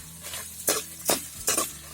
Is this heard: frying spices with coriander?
yes